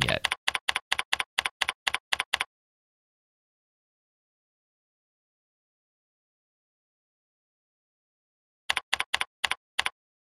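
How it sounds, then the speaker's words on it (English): Typing on a computer keyboard while entering text in an HTML editor: a quick run of about ten evenly spaced key clicks, a long silence, then five more clicks, crisp and close. "I'm just simply typing in text and not doing anything"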